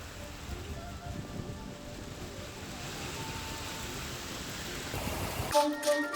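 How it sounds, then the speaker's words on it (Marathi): Heavy unseasonal rain in Pune district falls as a steady, dense hiss of drops on surfaces, constant throughout, with a brief louder clatter near the end. "पुणे जिल्ह्याला सुद्धा अवकाळी पावसानं झोडपलेलं आहे"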